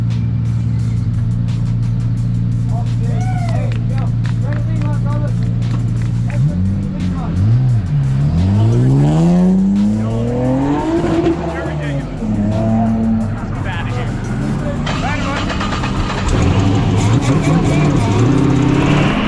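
Drift cars at a drifting competition: steady engine drone and sweeping, rising and falling whines of revving engines and squealing tires, close and loud throughout, with people talking over them.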